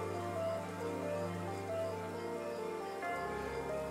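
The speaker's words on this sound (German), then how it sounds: "dieser permanente Regen ist nicht gerade angenehm" Steady, faint rain patters continuously in the video game CrossCode, a soft hiss beneath sustained musical tones, with no voices.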